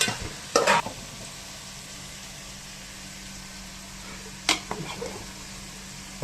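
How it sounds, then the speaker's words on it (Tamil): Onions fry in a pan with a steady low sizzle, broken by two short bursts of scraping as they are stirred, close and moderately quiet throughout. "மீதி இருந்த வெங்காயத்தையும் போட்டுட்டாங்க திரும்ப."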